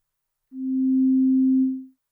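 An Omnisphere synth patch with added release plays a single pure, steady tone that sustains for about a second, then rings out in a smooth fade to silence, heard alone.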